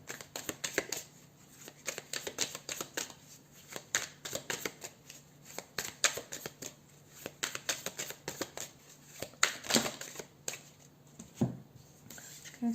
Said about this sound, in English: I'm gonna shuffle it and see what comes up for your soulmate